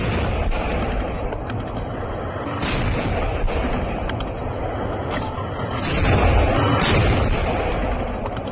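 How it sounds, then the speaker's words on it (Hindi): Two Russian tanks firing on a Ukrainian army position near Kreminna, heard as repeated heavy booms and explosion blasts over a continuous rumbling background, loud and fairly distant. "रूसी टैंक का यूक्रेन पर वार।"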